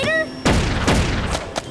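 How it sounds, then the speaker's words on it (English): A cartoon tennis ball launcher fires in a series of sharp popping blasts, three strong bursts and a smaller one in under two seconds, following a brief tonal warble at the start. "Ruff, tennis ball launcher!"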